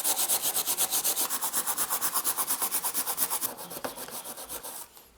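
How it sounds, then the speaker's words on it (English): Steel wool scrubbed rapidly back and forth over a rusty knife blade, a steady rhythmic rasping of about thirty strokes, close up, then slower, softer strokes near the end. "Gonna bring in some steel wool to try and get this like tougher rust down."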